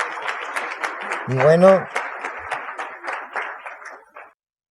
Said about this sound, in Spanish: un aplauso, excelentes ponencias